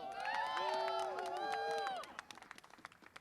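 Crowd at a housing advocacy rally letting out rising, whooping cheers over steady applause, then thinning to scattered, fading claps.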